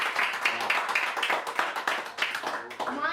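A small group claps for a cast member of a zombie film appearing on a talk show, scattered uneven claps running steadily throughout with voices chattering over them.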